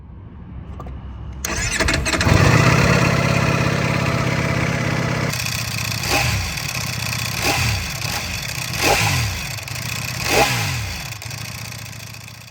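A Ducati Panigale V4 SP2's MotoGP-derived 1103cc V4 engine fires up, then settles into a loud, close idle broken by a few sharp throttle blips.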